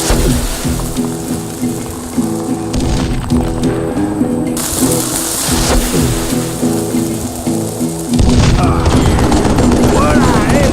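Gunfire in the video game Call of Juarez: dense rattling shots and booms roll on continuously and loudly, mixed with game sound and spoken commentary.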